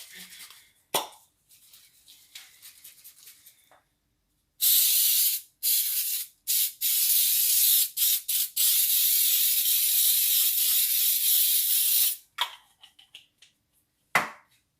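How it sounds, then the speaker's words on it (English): Several long hissing bursts of aerosol cooking spray onto a baking pan for a Swiss roll cake, close and loud, separated by short pauses, with light clatter before and after. "Oh, I forgot to spray it"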